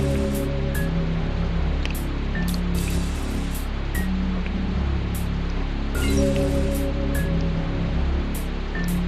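Rain ambience in a Sly Cooper video game level aboard a villain's ship: a dense, steady hiss of falling rain over a low rumbling drone, with faint repeating musical notes and no speech.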